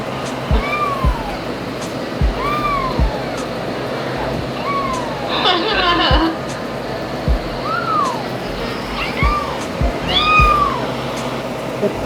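Recorded meows of other cats play back to a pet cat, a string of repeated rising-falling meows at close range over a steady low background hum.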